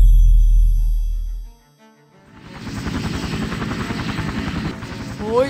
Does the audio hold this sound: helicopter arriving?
yes